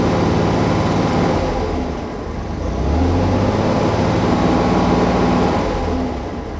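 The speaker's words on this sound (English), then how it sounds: "Engine's idling a bit on the slow side." Chevrolet Monza engine idling slowly, a loud, steady, low rumble heard up close with a slight dip and rise in level and no talking.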